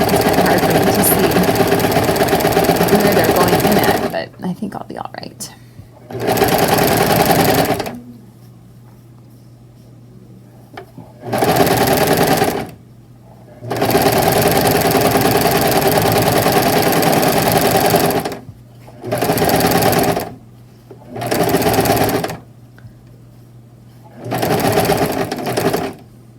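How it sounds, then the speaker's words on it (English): A sewing machine stitches through a knitted sweater for steeking in repeated bursts of rapid, loud mechanical whirring, separated by short pauses, close to the listener. "As I'm sewing them, it's kind of hard for me to see where they're going in at"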